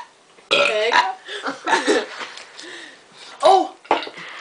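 Young people in a playful burping contest let out several loud, drawn-out belches in quick succession, each rough and gurgling, with brief gaps between them and close to the listener.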